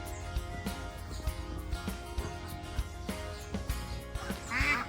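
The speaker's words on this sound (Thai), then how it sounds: "นี่คือเป็ด ที่ผมเลี้ยงไว้นะครับ" About 20 farm-raised ducks quacking repeatedly at a moderate distance, overlapping calls over a low background hum, with a louder burst near the end.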